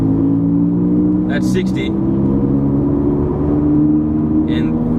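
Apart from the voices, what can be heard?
worn wheel bearing noise in a Ford Falcon XR6 while driving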